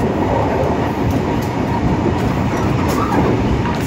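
A local Cibatuan passenger train hauled by a CC201 diesel locomotive rumbles past close by, a dense steady roar of engine and rolling wheels with faint rail clatter, loud and continuous.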